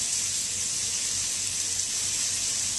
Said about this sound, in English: And we'll just get a quick pour on the breast here.